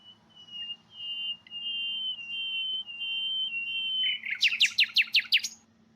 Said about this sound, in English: We recorded pairs of naturally interacting nightingales in the wild during their breeding season in Germany